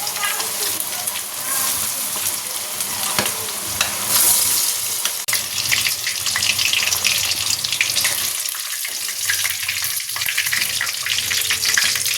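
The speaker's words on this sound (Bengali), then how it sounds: "এদিকে এই যে তেলও গরম হয়ে গেছে চলো এবার পকোড়াগুলো ভেজে নিই" Chicken pakoras for chilli chicken frying in hot oil, a loud, close, continuous crackling sizzle that swells and settles over several seconds, with no voices over it.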